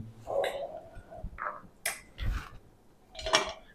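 Crisp fried katori chaat shells, bowl-shaped, being set down on a plate in a home kitchen: a few light hollow clinks and taps against the plate, close and fairly faint, spaced out over a few seconds.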